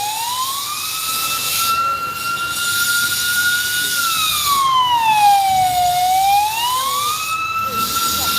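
Fire truck siren wailing steadily on a Manila street, its pitch holding then sweeping down and back up, loud and fairly close over traffic rumble.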